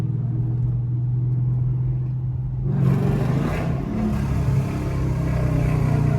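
Inside a moving Chrysler 300 with a 5.7 Hemi, a steady engine drone hums along until the exhaust suddenly swells into a louder, rougher roar at a downshift and stays elevated to the end.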